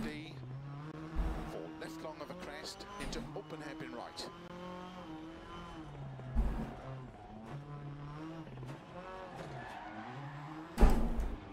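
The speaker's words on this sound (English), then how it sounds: "Gotta get the handbrake on just right to turn it in." A rally car in the WRC video game slides through a handbrake turn on snow at Monte Carlo, the engine revving and changing pitch with sharp bursts of skid noise, while someone talks over it.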